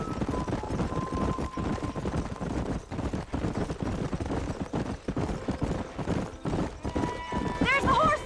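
Horses galloping in the video game Red Dead Redemption, rapid continuous hoofbeats up close with a whinny near the end, over game music and speech.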